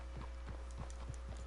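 Horse hooves clop along at a steady walking pace in a video game, a soft, even rhythm of muffled hoof strikes over a constant low hum.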